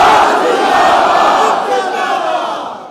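A large crowd at a religious rally in Pakistan roars a slogan back in unison, a dense, loud massed shout that swells and holds for nearly three seconds before slowly fading.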